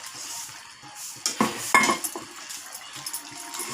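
Muitha, dumplings made with jackfruit seeds and potato, go into a cooking pot with a couple of clanks and scrapes of utensil against metal midway, followed by a soft simmering bubble.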